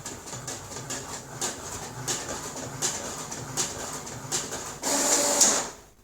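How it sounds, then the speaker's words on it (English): A printer runs through a job in a series of regular mechanical passes, each a short whirring burst about every three-quarters of a second, ending in a louder sustained whir before it stops; heard close and moderately quiet. "I found a random 6-second clip of a printer printing something."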